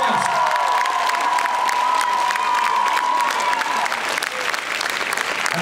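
Loud, sustained applause from a gala concert audience fills the hall, dense clapping with scattered cheers and whoops, steady throughout before easing slightly near the end.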